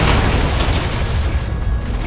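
Explosion in the Resident Evil 6 video game, a loud, heavy booming blast that rumbles on and slowly fades, with no one talking.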